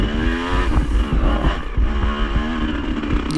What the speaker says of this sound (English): you can hear the like the engine, the idle's getting higher and higher.